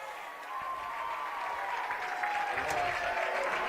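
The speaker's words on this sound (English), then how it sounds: "Mays Madsen gets a big cheer from the crowd as he strides to the left-handed batter's box" A crowd at a high school baseball game cheers and applauds for a batter stepping up, a sustained wash of clapping and cheering at moderate distance with a commentator talking over it.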